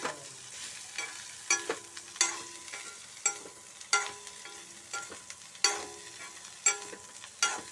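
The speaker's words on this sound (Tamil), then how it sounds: "கொஞ்சம் வதங்கணும்." Cauliflower sautéing in a pan, heard as a soft steady sizzle broken by frequent sharp scrapes and clinks of a spoon stirring against the metal, in an uneven rhythm close to the microphone.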